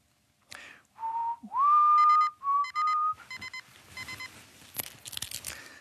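A clear, sustained whistled tone that slides upward and holds, followed by bright chirpy electronic beeping and crinkly rustling.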